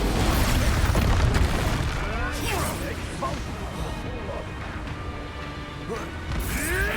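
Spell blasts from Expulso and Confringo in the video game Hogwarts Legacy boom and crash continuously, with rumbling debris and whooshing magic layered densely throughout, loud and close.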